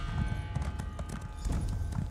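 Horse hooves clip-clop in a steady jogging rhythm through Elder Scrolls Online, close and continuous, with a soft background bed of game ambience and no talk.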